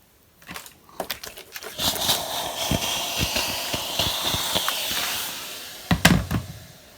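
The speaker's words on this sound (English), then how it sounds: "now I'm just going to steam it." A handheld steamer hisses steadily while steaming a crochet doily pinned flat to cardboard, a close continuous hiss broken by a series of short puffs and clicks, with no talking.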